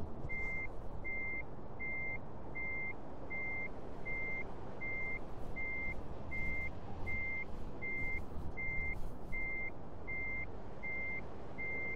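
Steady reversing alarm from a lorry in Euro Truck Simulator 2, a regular train of evenly spaced beeps over a continuous truck engine rumble, loud and close, with no talking.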